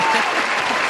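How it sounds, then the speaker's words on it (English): A live studio audience gives a guest a brief, steady round of applause on a podcast, the clapping close and dense and filling the whole short moment. "Give a round of applause."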